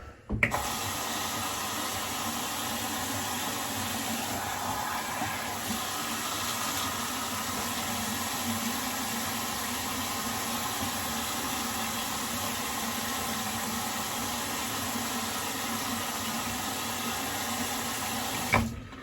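Tap water runs steadily and fairly close in a bathroom during a straight razor shave, a continuous even wash of flow with small splashes at the start and end, heard on its own with no talking.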